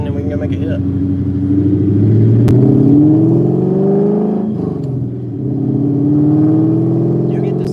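A Coyote V8-swapped Ford Cobra running on high-ethanol fuel accelerates and revs through a U-turn, its engine note rising and falling close by with someone talking over it.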